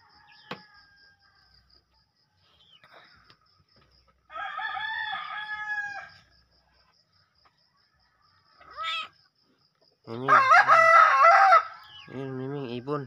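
A rooster crows twice between bursts of hen clucking, fairly close and loud, with short quiet gaps between calls.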